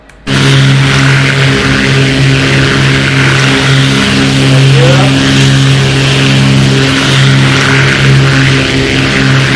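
Twin 325 hp piston engines of a Beechcraft Baron at takeoff power, a loud steady droning roar with strong harmonic hum that starts abruptly and holds constant, heard from inside the aircraft with no talking.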